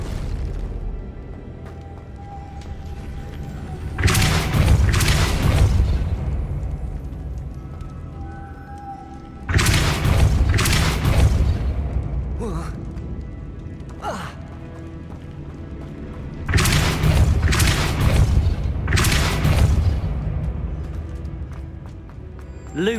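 Depulso spell from the Hogwarts Legacy video game, three loud bursts of a forceful magical blast, each a sharp impact trailing into a whooshing decay, spaced several seconds apart over quiet game ambience.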